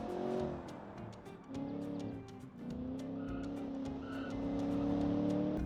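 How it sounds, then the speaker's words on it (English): A race car in the Automation game, lacking a limited slip differential, roars at full throttle with its engine note climbing steadily over several seconds, tires squealing through the run, loud and close. "I can really floor it."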